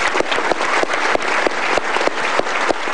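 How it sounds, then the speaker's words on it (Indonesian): A studio audience on an Indonesian talk show applauds a guest, giving close, steady clapping with individual sharp claps standing out, loud and continuous with no voices. "tepuk tangan dulu dong buat Pak Iwan"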